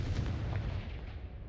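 A Confringo blast spell explodes in the Hogwarts Legacy video game: one heavy, booming burst that rolls off into a short rumbling tail, close and fairly loud, with no voices.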